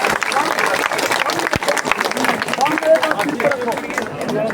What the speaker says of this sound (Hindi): जोरदार तालियां भाई, जोरदार तालियां।